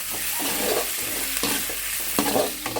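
Oil tempering mustard seeds, cumin, chana dal and urad dal with onion, tomato, green chili and curry leaves, sizzling loudly and continuously in a pan up close while being stirred with a few scraping strokes.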